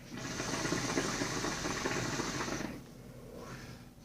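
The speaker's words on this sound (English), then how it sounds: "it definitely still has a little bit of a rumbling to it" A hookah fitted with a diffuser bubbles with a low, dense rumble for a few seconds before dropping off, followed by a brief softer gurgle.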